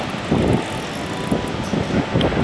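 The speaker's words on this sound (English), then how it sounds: "the drone's coming back pretty much close to where I took off from" Drone flying back toward its take-off spot during a fishing outing, a steady motor buzz mixed with gusty wind rumble that swells several times.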